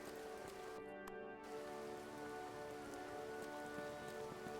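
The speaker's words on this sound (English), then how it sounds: "You gonna make me stand out in the rain" Steady rain falling in the horror video game Dreams in the Witch House, a soft continuous patter of drops on surfaces with faint tonal game ambience underneath and a brief dip midway, quiet and without speech.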